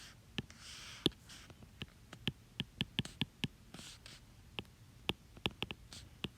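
A marker or pen tapping and stroking on a board while a math equation about random variables is written out, a string of sharp close ticks at an uneven rhythm over quiet room tone, no voices.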